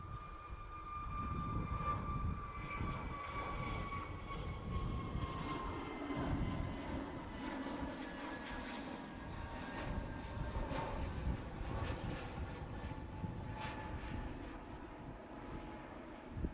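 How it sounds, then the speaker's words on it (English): An EasyJet Airbus A321neo jet departs runway 23 right at Manchester Airport, a steady, loud engine roar with sweeping tonal whine that holds throughout without speech. "we have another departure on 2-3 right. EasyJet A321neo off to Enfida."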